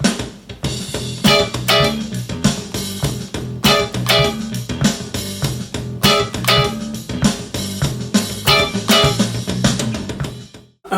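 Funk rhythm guitar riff played with short, rapid pick strokes in a tight repeating pattern. It is dense and steady throughout at full volume and cuts off abruptly at the end.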